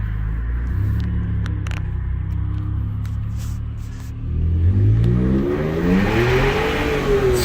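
A Ford 3.5 EcoBoost truck with turbo downpipes and an aftermarket turbo exhaust adapter idles with a low rumble, then accelerates hard, the engine note climbing steadily and loudly as it pulls away.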